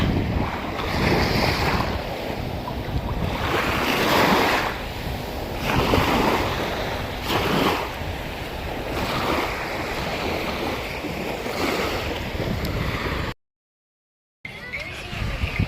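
Waves and wind at Salmiya Marina beach in Kuwait make a steady surf wash and gusty rumble, with voices faintly present and a brief silent gap near the end.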